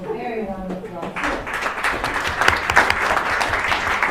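Audience at hackathon presentations breaks into warm applause after a brief spoken remark, the clapping swelling quickly and continuing densely to the end.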